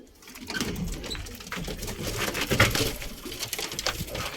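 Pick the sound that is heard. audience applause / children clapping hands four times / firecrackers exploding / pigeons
pigeons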